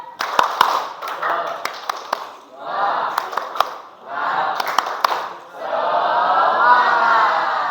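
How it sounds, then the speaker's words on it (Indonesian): A tenth-grade class does the tepuk semangat spirit clap in a classroom: sharp rhythmic clap groups alternate with loud group chanting bursts, ending in a sustained shout from the students. "Coba kelas 10, tepuk semangat."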